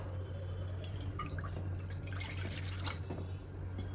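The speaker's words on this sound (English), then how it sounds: "add water" Water runs and drips into a pressure cooker while chicken pulao is being made, a soft continuous trickle with scattered drips and splashes, fairly quiet and with no talking.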